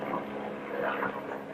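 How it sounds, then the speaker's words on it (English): A steady, diffuse helicopter rumble drones continuously overhead, moderately loud with no other sounds standing out. "I think that's a helicopter."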